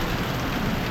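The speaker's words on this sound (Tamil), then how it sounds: "மழை பிரிச்சு மேயுது" Heavy rain pours during a motorcycle ride in Kerala, a dense, steady wash of hiss that fills the whole moment without letup and with no voices.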